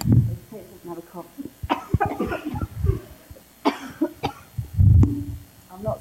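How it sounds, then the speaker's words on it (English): Someone coughs several times in short bursts, mixed with brief talking and laughter from people nearby. "Have a cough."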